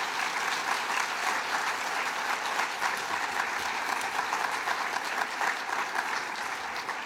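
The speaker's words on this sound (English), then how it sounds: "Let's give them a round of applause," Dense, steady applause from an audience at an IDD Awareness Day awards luncheon, honoring the nominees; loud and continuous throughout with no voices over it.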